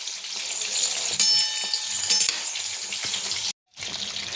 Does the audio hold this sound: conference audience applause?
no